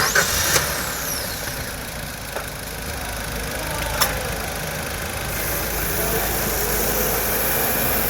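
A Maruti Suzuki Ertiga's engine turns over and settles into a steady, fairly quiet idle, with a few faint clicks and ticks early on and no talking over it.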